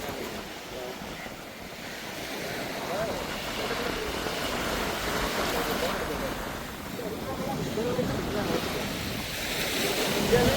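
Sea waves wash continuously along Mathagal beach in Jaffna around six o'clock, a broad, rolling surf mixed with gusty wind buffeting the microphone.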